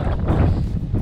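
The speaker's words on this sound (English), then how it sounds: "It's a bit windy, as you can see." Strong wind buffeting the microphone in a constant low rumble atop Sardine Peak, Ogden, Utah, no other sounds standing out.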